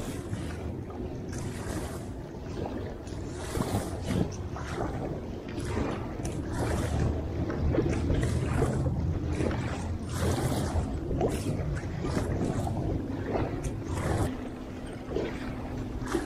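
A packraft pushing through choppy waves during the Petrovsky rowing marathon brings continuous splashing and sloshing water, with rushing wind buffeting the microphone throughout.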